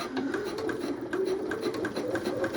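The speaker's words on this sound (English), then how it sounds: "Now the top, sewing across the top, you want to make sure you're catching all of the layers." A sewing machine stitches across the top of a raw-edge leather card wallet through several layers, giving a steady close mechanical whir with rapid rhythmic needle pulses and no voices.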